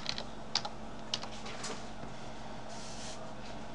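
Someone types on a computer keyboard, producing a few sharp, close key clicks early on and then softer, scattered tapping over a steady low background hum.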